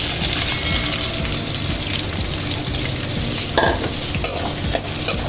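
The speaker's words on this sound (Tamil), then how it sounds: "இப்போ நல்லா இந்த வெங்காயம்லாம் நல்லா வதங்க விட்டுருவோம்." Onions frying in a pan for a fried chicken curry, a steady, close and fairly loud sizzle with occasional stirring scrapes and no talking.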